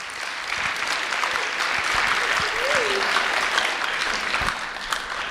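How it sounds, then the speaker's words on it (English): An audience at a Grand Valley State University Diversity Week presentation gives a round of applause, a dense sustained wash of clapping with a faint voice briefly audible partway through. "Can we just get a round of applause?"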